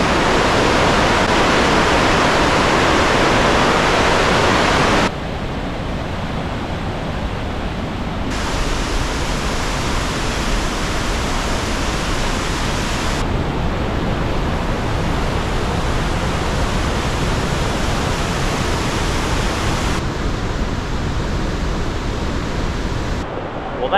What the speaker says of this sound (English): She's pouring, a lot of water, rainbow.